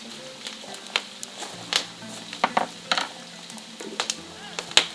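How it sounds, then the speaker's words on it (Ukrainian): Meat for kazan kebab sizzles and crackles steadily in a hot cauldron, with scattered sharper pops and occasional scraping clinks of a utensil. "Вона вся в ньому і воно все смажиться."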